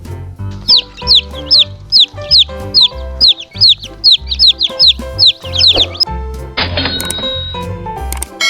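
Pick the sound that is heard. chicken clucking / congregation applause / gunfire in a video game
chicken clucking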